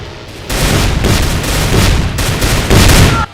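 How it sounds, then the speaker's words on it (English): A Demon Tech zombie from a Doom mod firing spreads of energy projectiles: loud, harsh bursts of gunfire roughly once a second, each a short crackling volley that runs almost continuously. "It fires about 1 shot per second, with each shot being a short spread of Demon Tech projectiles"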